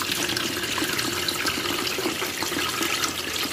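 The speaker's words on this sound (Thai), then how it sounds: "เพื่อนๆก็เทกรองเอาแต่น้ำนะคะ" Kaffir lime juice streams through a strainer in a steady close trickle of pouring liquid, continuous and unbroken, with no talk.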